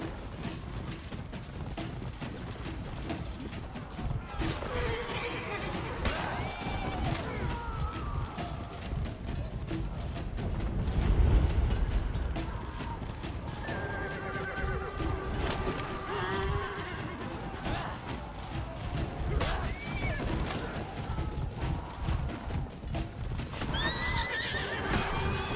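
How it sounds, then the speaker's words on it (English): A horse gallops with steady clip-clop hoofbeats and whinnies several times in the video game For Honor, during a Viking story raid, the sounds fairly loud amid ongoing battle noise. "Wait, I'm using the horse?"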